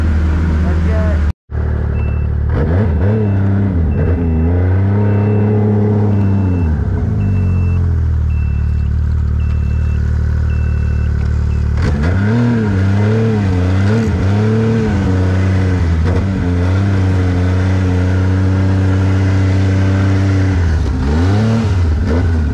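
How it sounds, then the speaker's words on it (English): Snowmobiles idle and warm up with a loud, steady engine drone that swells in revving waves, heard close and continuous while a person talks over them. "we got the sleds warming up"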